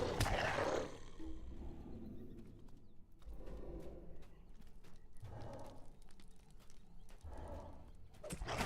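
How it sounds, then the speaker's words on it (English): Wargs of Moria in the Lord of the Rings Online video game let out several roaring, snarling bursts, one loud at the start and others spaced across the rest, over a low game ambience. "The wargs of Moria."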